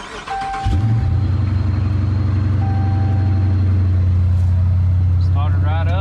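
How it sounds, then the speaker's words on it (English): A 2018 Dodge Charger police car, rebuilt after a wreck, cranks briefly and fires up close by, settling into a loud, steady low idle rumble. "So let's go ahead and fire this thing up."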